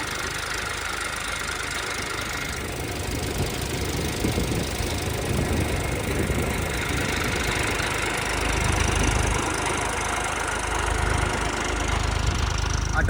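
A pair of heavy water-pumping motors runs continuously at an Amaravati construction site, a close, even engine hum with rough low rumble swelling and easing over several seconds, no voices.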